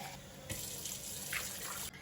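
Tap water pours into a container for soaking dried fish, a steady close splashing rush that starts abruptly and cuts off just as sharply about a second and a half later.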